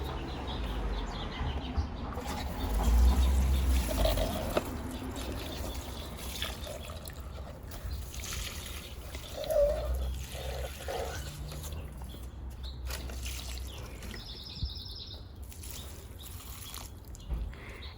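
Water poured from a can onto wilted potted seedlings makes a steady, soft trickle that runs for the whole stretch, with faint birdsong in the background and a few louder splashes.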